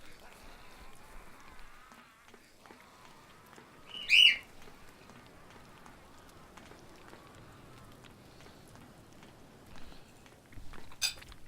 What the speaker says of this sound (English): You'll have to excuse my bird.